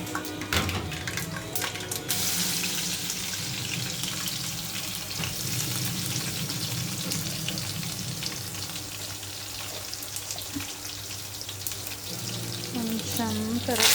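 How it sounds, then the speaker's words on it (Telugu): Curry leaves sizzling and frying in a pan for Telangana-style palakura pappu, a steady loud crackle that runs throughout with a little stirring. "కొంచెం కరివేపాకు ఉడుకుతూ ఉంటుంది."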